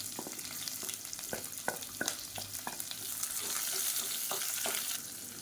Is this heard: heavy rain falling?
no